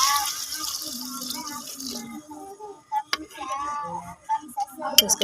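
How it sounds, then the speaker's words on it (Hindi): Water poured into simmering chicken-feet gravy in a handi cooking pot gives a broad hissing splash for about two seconds, then fades into quieter clinks and stirring sounds. "तो हम इसमें पानी ऐड कर देंगे।"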